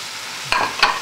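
Sauce is poured over chicken and vegetables cooking in a pan, setting off loud bursts of sizzling and stirring. No one speaks.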